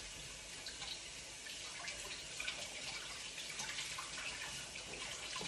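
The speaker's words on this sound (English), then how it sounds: "I think I need to rinse out my cloth." A Norwex cleaning cloth is rinsed under a running kitchen tap, a steady, fairly quiet hiss of flowing water with faint splashing and no talking.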